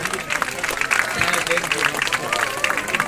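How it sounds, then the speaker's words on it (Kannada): Crowd clapping at a felicitation ceremony, steady dense applause running through the whole stretch with a voice speaking over it. "ಇವರಿಗೆ ಜೋರಾದ ಚಪ್ಪಾಳೆಯೊಂದಿಗೆ"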